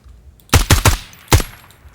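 A short burst of four sharp gunshots in quick succession, dry and punchy like game weapon fire, with quiet background in between, from the tactical shooter game Ground Branch.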